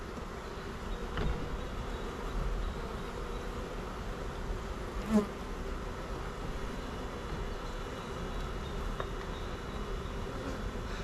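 Honeybees from a strong, large hive buzzing steadily around the open boxes, a continuous moderate insect drone with one brief louder thump midway and no talking.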